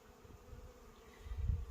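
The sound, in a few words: honey bees flying around hive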